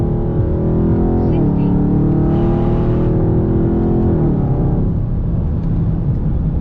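A Dodge Charger 392 Scat Pack launches hard, its V8 roaring loud and close through a rising rev, shifting, and pulling again before easing off, with a voice over the engine.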